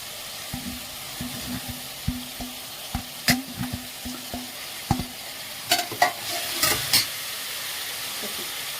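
Mutton biryani base sautéing in a pan with salt, mint and coriander, a steady close sizzle broken by repeated scraping stirs and a few louder clanks of the spoon.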